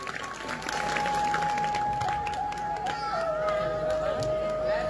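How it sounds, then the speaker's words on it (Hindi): Audience applause fills a Bhagwat Katha religious gathering, steady and moderately loud throughout, with sustained tonal music or harmonium notes running beneath the clapping. "इनके लिए एक बार जोरदार तालियों का स्वागत करेंगे।"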